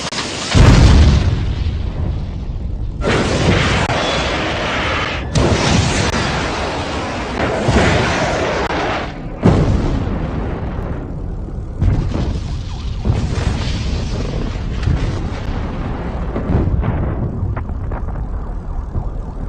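Heavy booming blasts from coalition military strikes on Iraq in March 2003, several loud bursts rolling one after another with rumbling aftershocks, dense and sustained throughout with no talk.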